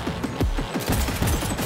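Automatic gunfire in the video game Cyberpunk 2077, a fast dense burst of close, loud shots rattling steadily for under two seconds, with no talk.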